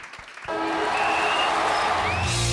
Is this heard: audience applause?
yes